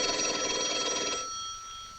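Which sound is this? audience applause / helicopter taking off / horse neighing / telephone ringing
telephone ringing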